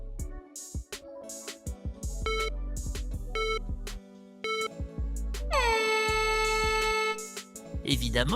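Voice of Oax, a character from the video game Incredibox Sprunki, given as a series of short stabbing tonal blasts followed by a long sustained horn-like tone, loud and close, with no other talk.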